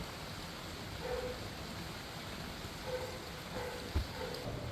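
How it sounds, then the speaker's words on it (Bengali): Light rain falling steadily outdoors, a faint, even hiss with occasional soft drops and a small knock near the end, no voices. "বৃষ্টি হচ্ছে একটুখানি"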